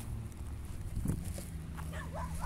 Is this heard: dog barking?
yes